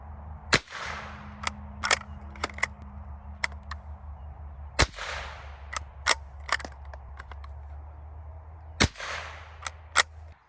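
.22 LR rounds fired through a chronograph during penetration testing on ballistic gel, denim and 20-gauge steel: three loud, sharp reports about four seconds apart, with lighter clicks and snaps in between.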